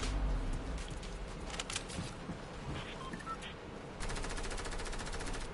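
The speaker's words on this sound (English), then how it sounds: "I discovered the double hunting rifle." Rapid gunfire from a double hunting rifle in a video game, a dense run of loud shots with a steady burst of repeated fire near the end, set against continuous game background noise.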